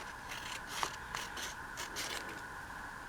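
Scissors trimming a collage paper piece, a few soft close snips and scraping blade strokes in quiet surroundings, with no voice.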